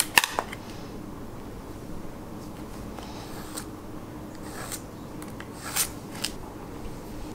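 Scissors snip through a square of fleece fabric, a few faint scattered cuts and rasping slides of the blades, quiet and close with a steady low hum underneath and no talking.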